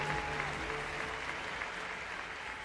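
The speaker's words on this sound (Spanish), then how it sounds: "Un aplauso para ustedes, muchachos." A large audience applauds at a university graduation ceremony, a steady, dense wash of clapping that holds evenly from start to finish, with a brief voice faintly audible underneath.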